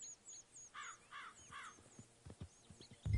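In the open-world western game Red Dead Redemption 2, a horse's hooves clop faintly among outdoor ambience, with crow caws and birdsong, ending in a louder thud.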